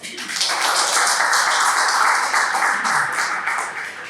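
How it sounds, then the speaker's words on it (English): A room of people at a Toastmasters club meeting gives a full round of applause, dense and loud clapping that swells in quickly and holds steady, then tapers slightly at the end. "Big round of applause."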